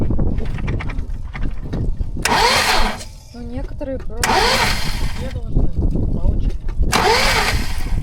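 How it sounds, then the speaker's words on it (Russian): An engine being cranked over on a car with a suspected knocking fault, three loud bursts of starter churning separated by pauses, with someone talking in Russian between them. "Сейчас я попробую двигатель крутануть."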